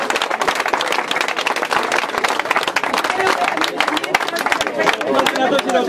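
Loud, dense applause and cheering from a crowd at the finish of the Vertical Kilometer Loutraki 2012 race for the third-place woman, close and energetic with crowd chatter and voices mixed in.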